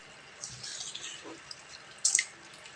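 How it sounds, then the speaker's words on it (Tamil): Water splashes and trickles into a pot in short uneven bursts, quiet overall, with a brighter splash near the end. "தேவையான அளவு தண்ணி ஊற்றிக்கலாம்."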